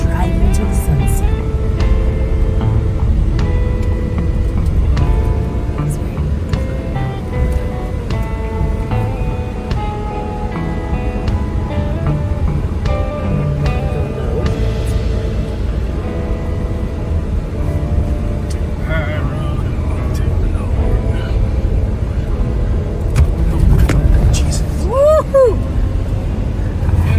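A 2025 Ford Expedition Tremor cruising down the road at sunset gives a steady, continuous low road and engine drone, heard from inside the cabin without pause.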